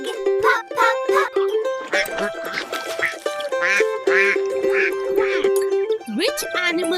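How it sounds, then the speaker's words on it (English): A cartoonish duck quacks in short repeated bursts over cheerful children's music, sounding close and bright, with the pitch sliding upward near the end. "Yes. Quack, quack. A duck. Quack, quack."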